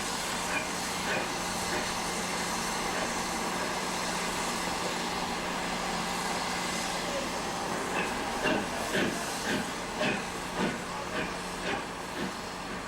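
A steam locomotive, Green Arrow, running slowly on a railway line near a racecourse car park, with a steady hiss of steam throughout and soft rhythmic chuffs emerging in the latter half, heard from nearby.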